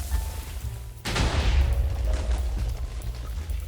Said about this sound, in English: We're able to fire off the cannon